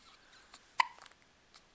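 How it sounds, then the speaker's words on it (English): A young girl gives a single sharp hiccup, one brief quiet burst in an otherwise hushed room, with only faint breathy sounds around it. "do you still have the hiccups? Yeah, you do."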